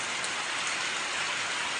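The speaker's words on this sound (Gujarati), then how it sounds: "અહીંયા જો સવાર દીનો વરસાદ આવે છે" Heavy morning rain falls in a dense, constant hiss, loud and close, with no voices or other sounds.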